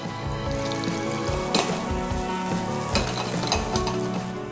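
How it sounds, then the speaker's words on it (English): Red onions and garlic fry in a pan with a dense, steady sizzle and occasional stirring scrapes, close and continuous, no talk. "In a frying pan, cook red onions and garlic for a few minutes."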